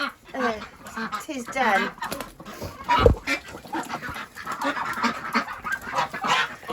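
Ducks in a duck pen quack and honk loudly and repeatedly on a rainy morning, harsh overlapping calls close by, with someone speaking briefly among them.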